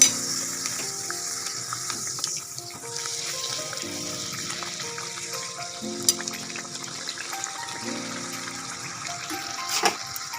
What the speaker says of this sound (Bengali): দেখো আমি তেলে দিয়ে দিচ্ছি